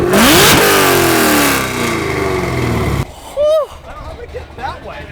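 A Chevrolet ZL1 Camaro engine revs loud and close, climbing sharply, then roaring and falling away before cutting off abruptly, followed by quieter bursts and a voice talking.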